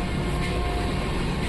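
A passenger train runs near Kalaburagi, Karnataka, on the Chitradurga to Gulbarga route, heard from inside as a continuous, loud, even rumble of wheels and carriage noise with no pauses.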